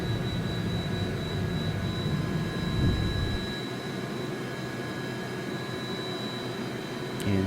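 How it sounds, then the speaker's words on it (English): A helicopter flying overhead outdoors, heard as a steady, fairly distant engine drone and rotor rumble that stays continuous throughout, with no talking. "I don't know if you guys can hear that helicopter."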